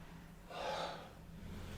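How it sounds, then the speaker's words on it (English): Slow, audible breath during a neck exercise with the head leaning back over a cervical spine block, one soft breathy inhale-exhale swelling in the middle and then fading, heard alone and close. "Breathing in, breathing out."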